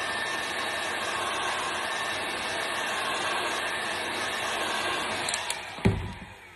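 Heat gun blowing hot air over tape on the edge of a resin art clock, a steady close whooshing hum throughout, with a few faint clicks and a knock near the end.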